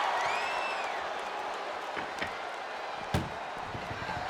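Crowd roar from the WWE 2K24 wrestling video game during an ambulance match, a dense continuous cheering wash with a few whistles and a single sharp slam-like thud partway through.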